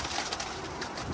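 Pigeon-like cooing and bird calls come through during a bird hunt outdoors, steady and moderately loud across a short moment, with no voices.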